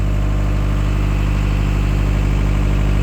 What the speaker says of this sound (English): Right, little bit more revs